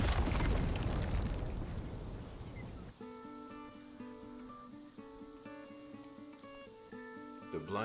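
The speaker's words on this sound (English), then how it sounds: "Explosion." A loud, booming explosion in the online role-playing game Lost Ark roars for about three seconds and then decays, giving way to a calm melodic music loop playing alone.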